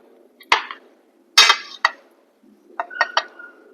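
A spoon knocks against plates and bowls in a home kitchen, giving several sharp, close clinks spaced out with quiet gaps and then a quick cluster of lighter taps.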